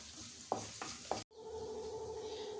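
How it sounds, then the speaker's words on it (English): Cumin seeds frying in a little oil crackle softly in a pan, with a couple of sharp taps and a brief cut, then a steadier hiss carrying a faint tonal hum. "While the jeera is getting fried"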